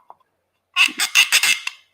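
A hand-carved wooden bowl's dowel being twisted into place gives a squeaky, chirp-like burst of several rapid squeaks, close and clear after a brief faint tick.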